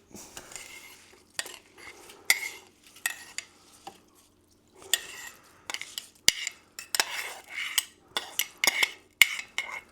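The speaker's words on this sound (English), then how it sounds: "so mustard seeds going in. Yellow mustard seeds in." Yellow mustard seeds tumble into a bowl for beer mustard, giving a run of dry, scattered rattles and clinks that come close and fairly loud in irregular bursts, with no talking.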